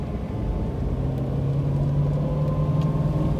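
A 1969 Shelby GT500 with a plain exhaust rolls along in first gear, its engine a steady, low, fairly quiet hum that holds without revving.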